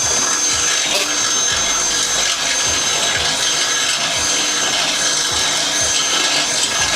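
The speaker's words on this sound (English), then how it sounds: "So let's just drill it out and like go in like a little like circle movement like this." A power drill grinds steadily and loudly, widening a hole for a front brace bar on a 10th-generation Honda Civic, its bit rasping against the material without a break.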